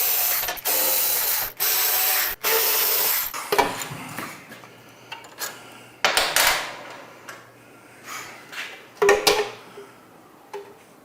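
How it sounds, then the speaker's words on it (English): Hex bolts are loosened from the front fender of a performance bagger motorcycle with a 1/4 inch Allen key, giving close metallic clicks and clanks, with a few sharp bursts early and lighter taps after. "4 bolts on the front fender. It's going to be a 1/4 inch Allen to remove those."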